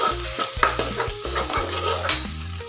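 Eggplant pieces stir-fry in hot oil with homemade masala, a continuous sizzle broken by repeated scrapes and clinks of a spoon against the pan, close and clear with no talking.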